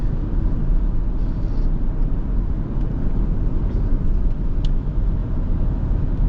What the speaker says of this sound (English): there's a little bit of wind noise, but it's relatively well insulated